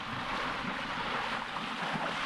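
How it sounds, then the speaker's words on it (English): Strong wind rushes and buffets over open sea during windsurfing, a steady roaring hiss with gusty swells, mixed with the wash of water, all close and continuous. "Wind has picked up a little."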